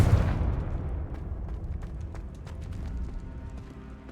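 The Confringo explosive spell goes off in the video game Hogwarts Legacy as a sharp, booming burst at the start that rumbles away, followed by scattered lighter impacts.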